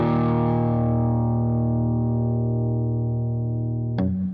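Electric guitar played through a Pro Co Rat Whiteface 1985 reissue distortion pedal: one thick, saturated chord rings out and slowly decays, then a brief pick scrape or new attack near the end, loud and alone.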